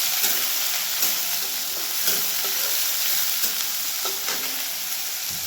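Food frying in hot oil gives a steady, close, dense sizzle with a constant hiss that runs the whole time, broken now and then by faint clinks of stirring.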